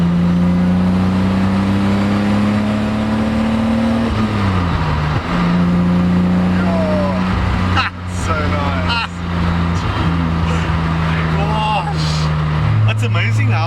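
A Toyota Celica Supra straight-six cruises in fifth gear, a steady droning engine note with the pitch dropping at a gear or throttle change, heard from inside the car under someone talking.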